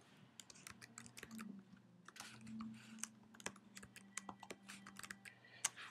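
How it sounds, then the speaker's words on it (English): Rapid, irregular clicking of keys on a computer keyboard, close and fairly quiet, continuing steadily over a low hum. "I'm just typing out some text"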